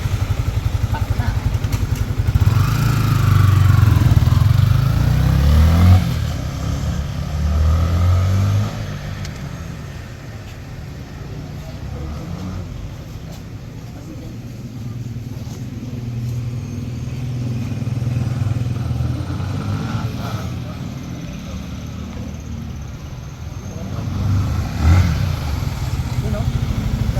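Yamaha Sniper 155 ABS motorcycle engine on a test ride, a low droning rumble that swells and eases with throttle and braking, heavy wind buffeting over it and a rider talking at times.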